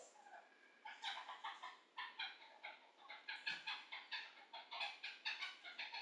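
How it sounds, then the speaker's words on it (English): Backyard chickens cluck in short, repeated bursts at moderate distance, a steady run of calls heard alone over quiet background. "I don't know if you can hear my chickens"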